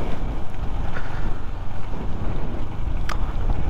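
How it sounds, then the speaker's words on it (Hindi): Strong wind on the road from Mustang to Ghasa in Nepal buffets the microphone in a loud, continuous roaring rumble with gusty surges, with no voices over it. "बहुत बहुत ही ज़्यादा तेज़ हवा चल रही है"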